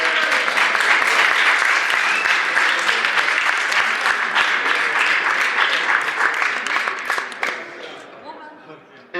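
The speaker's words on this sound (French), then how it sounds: "Donc pour Alex, je vous demande d'applaudir." Sustained audience applause at a festival, a dense wash of many hands clapping, loud and close, steady for most of the stretch before thinning and fading out near the end.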